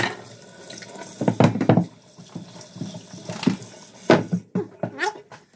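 Tap water runs into a sink while a King George whiting fillet is rinsed, the splashing flow rising and falling in uneven bursts as the fish moves under the stream.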